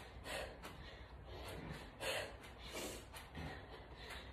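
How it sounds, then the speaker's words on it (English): Heavy, rhythmic breathing from a boxing cardio workout: sharp exhales and snorting breaths come in repeated bursts about every half second to second, close and steady, with no talking. "And again, lots of breathing."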